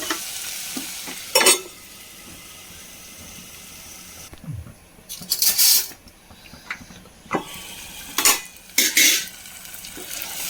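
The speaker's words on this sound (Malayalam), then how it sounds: "ചേർത്ത് നന്നായി ഇളക്കാം എന്നിട്ട് കൂടി മൂടിയിടാം" Prawn masala with chopped tomato is stirred in a pot, giving bursts of spoon scraping and clatter over a low simmering sizzle, with quieter gaps between the strokes.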